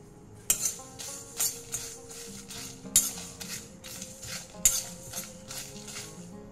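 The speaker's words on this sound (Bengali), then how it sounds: "কড়াইটা গরম করে নিয়েছি, নিয়ে এই মশলাগুলো রোস্ট করে নেব।" Dry spices scraped and stirred around a hot metal wok as they dry-roast for mango pickle, with sharp clinks and scrapes at irregular intervals and a faint background hum.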